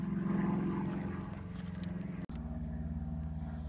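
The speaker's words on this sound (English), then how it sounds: "We've been waiting for the planes to leave, but I guess they ain't." A propeller airplane drones overhead at a campsite, a faint, steady low engine hum with a brief dropout midway.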